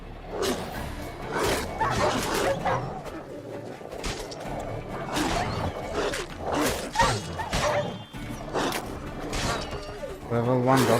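Dogs in The Witcher 3 game bark, yip and growl in repeated bursts amid combat sounds, fairly close and moderately loud, while someone talks over the action.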